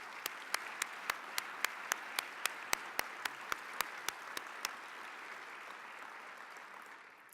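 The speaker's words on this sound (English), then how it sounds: "Let's give a round of applause to all of our sponsors tonight." An audience at an evening foundation event claps for sponsors: a thin patter of distinct, evenly spaced single claps over soft crowd ambience, fading out after about five seconds.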